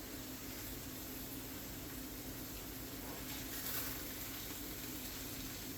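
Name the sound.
egg being folded into fried rice in a Babish wok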